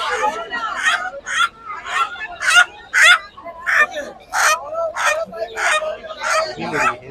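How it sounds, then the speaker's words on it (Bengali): Desi country chickens cluck and squawk in a busy bird and animal market in Kolkata, with repeated loud close calls, while people talk throughout. "সব দেশি মুরগি দেখো।"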